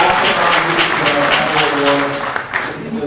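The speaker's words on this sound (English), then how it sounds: "another round of applause" Close, loud applause from an audience at a tech presentation, many hands clapping together with some murmuring voices, fading slightly toward the end.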